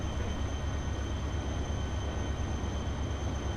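Trains racing in Transport Fever, a French train against a Chinese train: a steady, loud, continuous rumble of rolling rail cars with a faint high whine, no voices.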